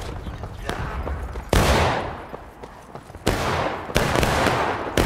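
Musket volleys from a skirmish line firing at will in the Civil War game War of Rights: broad, crackling bursts of massed shots at about 1.5, 3.3 and 4 seconds, each rolling off into echoing battlefield noise.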